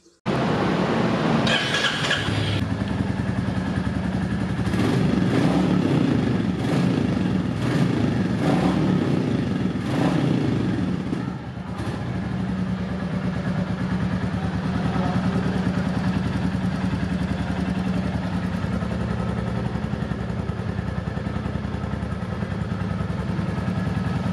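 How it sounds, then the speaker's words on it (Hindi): A Royal Enfield Classic 350 motorcycle engine runs steadily at idle, a low, continuous exhaust rumble with a brief rev near the start, loud and close with no talking. "मैं अब आप लोगों को इसका इग्निशन ऑन करके इसका एग्जॉस्ट हाँ, नोट सुना देता हूँ"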